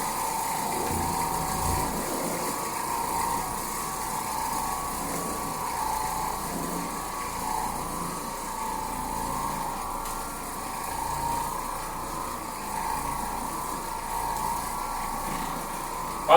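Oreck Orbiter floor machine running over a filthy carpet with a wet cleaning bonnet, giving a steady mechanical whirring drone with a rough gear-like rattle, continuous and fairly quiet.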